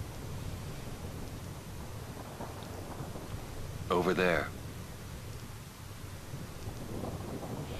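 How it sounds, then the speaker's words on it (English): Steady rain hiss with low rumbling from a storm in the video game Final Fantasy X runs throughout, with a character speaking briefly over it midway. "Yeah, let's get out of the rain."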